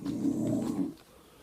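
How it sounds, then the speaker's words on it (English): A dog barks indoors in a short, low, gruff burst lasting under a second, with a faint growling edge, followed by quiet. "that's my dog barking"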